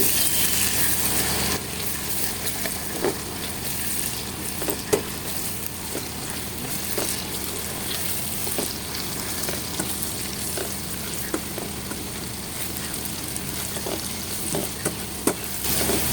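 A garlic pickle mixture with ground mustard paste, chili and garlic fries in a pan with a steady, close sizzle throughout, broken by occasional light ticks and scrapes of a spatula stirring.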